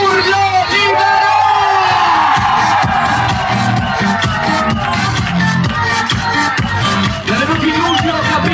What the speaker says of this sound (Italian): voglio il vostro urlo libero!